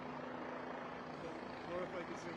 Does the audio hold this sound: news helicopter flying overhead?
yes